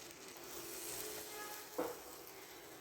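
Egg omelette turned to cook its second side in a little oil on low flame, giving a steady soft sizzle throughout with one brief louder pop near the end.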